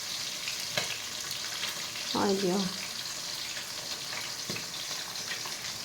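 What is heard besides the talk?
boroli fish frying and sizzling in oil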